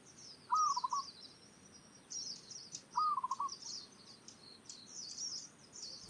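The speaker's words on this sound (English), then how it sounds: "Zebra doves are often welcomed by humans due to their peaceful nature and soft calls." Two soft, clear zebra dove calls repeat a few seconds apart, with higher chirping from other birds in a quiet outdoor setting.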